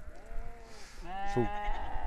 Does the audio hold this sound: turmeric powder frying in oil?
no